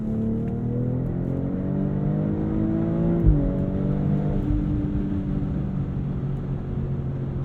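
A 2022 BMW X3 M40i driven hard through a corner in dynamic traction mode, its engine note holding steady, dipping sharply under braking and then climbing again as it accelerates out, heard from inside the cabin.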